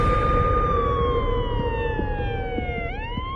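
A police siren wails steadily and loud, its tone gliding slowly downward before a quick upward sweep near the end, over a rumbling background.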